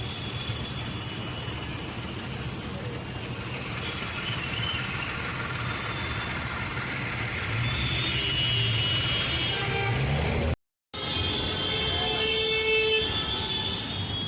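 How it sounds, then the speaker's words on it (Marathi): Congested road traffic near Panvel with engines idling and a steady background rumble, car and truck horns tooting repeatedly, some close and sharp, others distant. "खूप ट्रॅफिक आहे"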